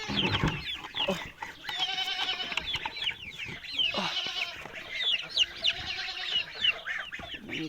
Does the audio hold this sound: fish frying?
no